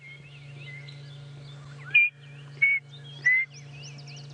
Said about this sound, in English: That was a male chin spot batis, and if we listen, we can hear them calling.